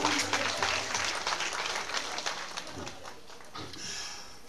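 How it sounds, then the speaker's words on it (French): Audience at a Paris diaspora awards night applauding a performer, dense steady clapping filling the room with voices and shouts mixed in, tapering slightly toward the end. "On va applaudir encore Maïli,"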